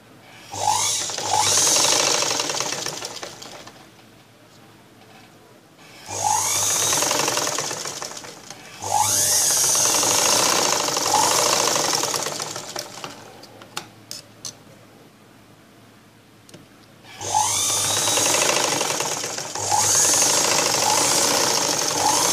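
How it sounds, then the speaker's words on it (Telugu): A sewing machine stitches blouse darts in several loud, steady running bursts separated by pauses, each burst starting and stopping abruptly with a faint whirring motor hum between runs. "మనకి స్టార్టింగ్ పాయింట్ దగ్గర నుంచి పెట్టుకొని స్టిచ్చింగ్ చేసుకోవాలి"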